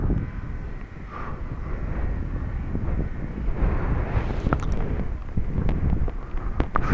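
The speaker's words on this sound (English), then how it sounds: "Two more planes in the air." F5J electric model gliders fly during a junior flyoff at a European championship in Dupnitsa, Bulgaria, a faint airy whoosh under steady wind noise on the microphone, with a few sharp clicks near the end.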